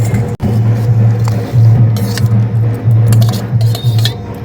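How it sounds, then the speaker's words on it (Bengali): Raw and ripe mango pieces are tipped from a bowl into a wok, with light clinks and scraping of metal and crockery over a steady low background hum. "কাঁচা পাকা আমটা যে আমি একটা গামলিতে রেখেছি এটা এবার কড়াইতে দিয়ে দেবো"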